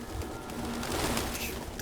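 Pigeons cooing in Detroit: Become Human, soft low throaty coos repeating over a dense, noisy game background, fairly close and moderately quiet.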